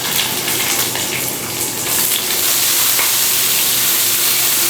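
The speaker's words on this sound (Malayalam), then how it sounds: "ഒരു 2 മീഡിയം സൈസിലുള്ള സവാള നീളത്തിൽ അരിഞ്ഞത് ചേർത്ത് കൊടുക്കാം." Sliced medium onions hit hot oil already holding mustard seeds and curry leaves, giving a loud, dense, continuous sizzle that stays close and steady throughout, with no voices over it.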